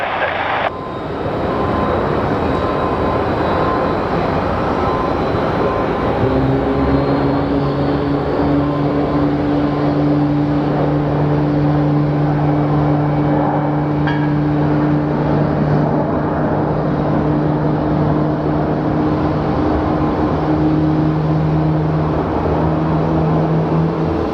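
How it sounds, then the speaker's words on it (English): An Airbus airliner's jet engines spool up at a busy airport, a loud, sustained roar that swells into steady rising whines lasting through the remainder of the stretch, heard without speech. "Airbus is turning on, it's pulling up its engines."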